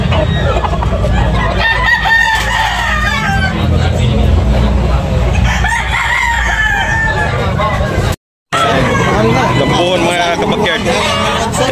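Roosters crow and hens cluck loudly at a busy poultry market in Tabunok, Talisay, Cebu, with several calls overlapping the steady hubbub of people talking nearby and a brief break in the sound near the end.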